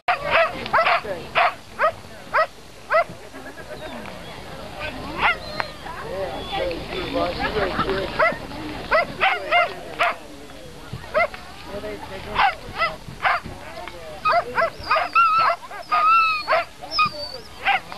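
Rescue sled huskies bark repeatedly during a dog sled ride, in loud close bursts that come and go over the run, with people talking and calling out in between.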